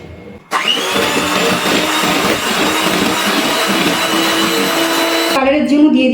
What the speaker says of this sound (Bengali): এবার বিটারের স্পিডটা একদম 1-এ দিয়ে আমি একটুখানি বিট করে নেব